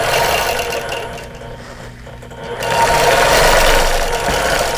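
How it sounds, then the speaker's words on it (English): Outline quilting on a pillow cover made from vintage quilt blocks: a nearby sewing machine whirs continuously, easing briefly in the middle before speeding up again, loud and close. "I'm going to go ahead and do some outline quilting here"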